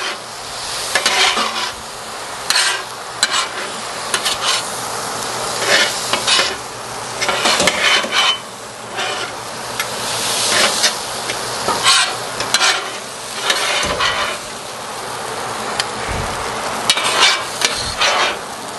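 Chicken fried rice seasoned with MSG and pepper is stirred in a hot pan, a loud sizzle broken by repeated scraping, clattering utensil strokes against the metal.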